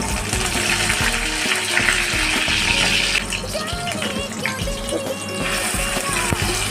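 Curry leaves crackle and sizzle in hot oil for a Maharashtrian fish rassa, a loud, steady frying hiss with scattered pops and clicks throughout, no voices.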